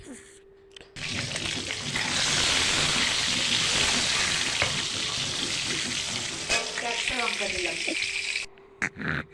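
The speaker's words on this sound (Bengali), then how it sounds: "তো ডিমগুলো ভালো করে লাল করে ভেজে নেব" Eggs frying in hot oil in a kadai give off a loud, steady sizzling hiss up close, with a few light stirring scrapes. The hiss dies away near the end.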